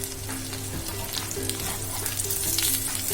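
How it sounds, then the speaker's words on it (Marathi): Kupa fish sizzles as it fries in a pan, a dense, steady crackle of hot oil that stays constant throughout with no voices. "फिश झाले, मच्छी चांगली फ्राय झालेली आहे."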